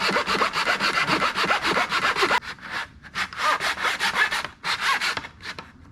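A handsaw cuts through wood for a collapsible A-frame garden trellis, its steady back-and-forth strokes rasping loudly and close, with a brief pause partway through before the rhythmic sawing resumes.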